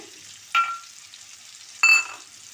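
Potatoes frying in a pan for a home-style papad fry curry give two short sizzling bursts with quiet pauses between them, close by and moderately loud.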